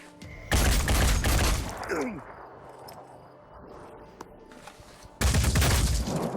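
Gunfire in the video game Blood and Titanium comes as two dense, loud bursts of rapid shots, one at the start and one at the end. A quieter stretch of ambience and a brief whistle-like tone lie between them.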